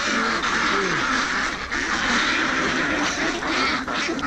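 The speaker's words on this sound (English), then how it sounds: "Amazing. So many ducks." Many ducks quack over one another in a dense, continuous chorus, close and loud, with a faint voice briefly audible underneath.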